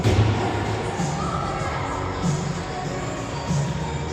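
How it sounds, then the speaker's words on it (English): A crowd of fans at an under-13 youth hockey game between the Victoria Admirals and VRC Kings cheers in a steady, distant wash of shouts and chatter, with a few thuds from the play. "Kings fans cheering."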